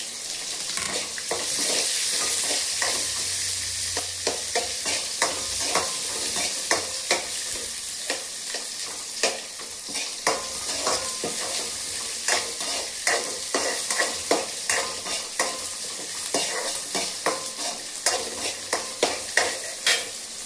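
Onion and chilli sautéing in a pan with a constant sizzle and regular spoon scrapes that grow more frequent, heard up close with no voices.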